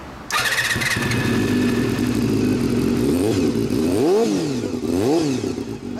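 A 1992 Honda VFR400R motorcycle fitted with a Yamamoto Racing muffler starts up close by, settles into a loud, rough idle, then is revved sharply twice in quick rising-and-falling bursts.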